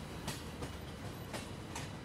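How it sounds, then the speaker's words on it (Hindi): Wheels of the Karnavati SuperFast Express, hauled by a WAP7 locomotive, clatter steadily over rail joints on an Indian Railways line between Mumbai Central and Surat, a dense continuous rumble with faint periodic clicks and no talk. "ओहो ट्रैक साउंड आ रहा है गाइस, एंजॉय कर रहे हो ट्रैक साउंड को?"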